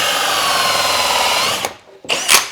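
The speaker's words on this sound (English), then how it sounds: "So I'm just marking them out with this 4" hole saw." A 4-inch hole saw drilling into plywood, a loud, steady whining grind that cuts out and then briefly spins back up.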